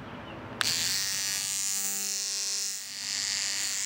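An electric toothbrush pressed against tomato flowers to pollinate them gives a steady, close, high-pitched buzzing that starts abruptly and runs continuously, its tone wavering slightly.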